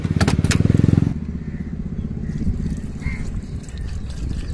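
A 2023 TVS Jupiter 125 scooter with an E20 fuel sticker cranks with a rapid starter whirr for about a second, then its small engine settles into a steady idle close by.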